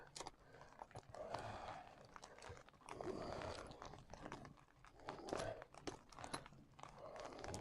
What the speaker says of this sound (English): Now what I've got to do is just cut the zip.